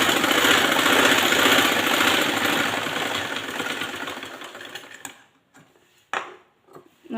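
An electric sewing machine runs a rapid, continuous stitching rattle while sewing a strip of fabric, loud and close for about five seconds, then stops, leaving brief clicks and short bursts of handling noise.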